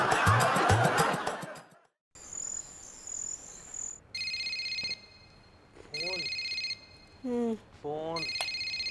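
A telephone rings in a home in short, bright repeated bursts with pauses between, while a voice briefly overlaps near the end.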